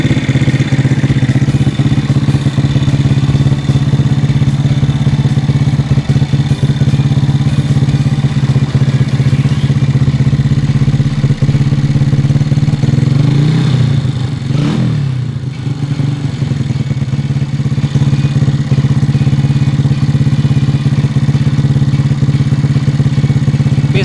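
A motorcycle engine with a 67.9mm-stroke build and a 28 carburetor, not yet tuned, runs steadily at idle up close, loud and rumbling, with a brief dip and rise partway through.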